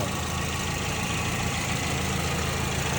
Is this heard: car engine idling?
yes